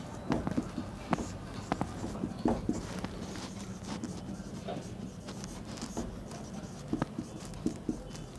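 Handwriting on a board or paper during a lecture, with soft scratchy strokes and light taps at irregular intervals over a steady room hum, no speech.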